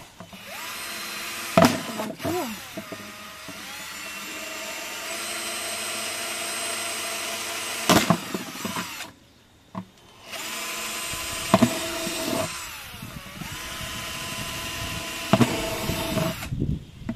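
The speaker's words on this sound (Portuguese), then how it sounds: "Vou furar ele. Já tô aqui com a minha furadeira." An electric drill boring drainage holes in a plant pot during anthurium repotting, its motor whining in long sustained bursts with short pauses and clicks, close up, while a person briefly speaks.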